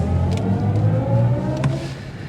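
BMW i7 M60 electric sedan accelerating in sport mode, a rising synthetic whirring drive tone layered over road and cabin rumble, steady and fairly loud from inside the car.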